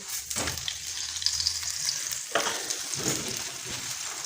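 A sarson saag paratha sizzles steadily on a hot pan in desi ghee, with a continuous close frying hiss and a couple of brief stirring or shifting sounds.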